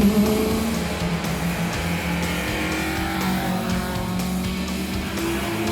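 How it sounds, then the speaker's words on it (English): American V8 historic racers, Chevrolet Corvette, Camaro and Plymouth Roadrunner, thunder past at the HistoCup, a loud, deep, continuous engine rumble with layered revs from several cars close by. "A large part of the field of the mighty V8 meteorites come from America, like Chevrolet Corvette, Camaro, and Plymouth Roadrunner."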